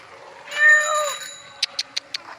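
A cat gives one drawn-out meow up close, followed by a few short sharp ticking clicks.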